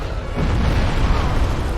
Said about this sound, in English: Oh, it does explosions